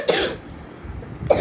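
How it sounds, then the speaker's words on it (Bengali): Two sharp coughs from a person, one at the start and one near the end, close and fairly loud with a quiet pause between them. "দেখেছো আমার কি পরিমাণ কাশি হয়েছে"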